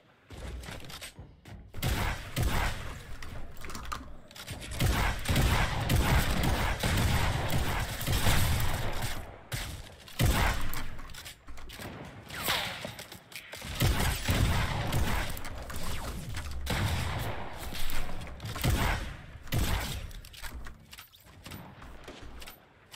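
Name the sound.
gunfire in a video game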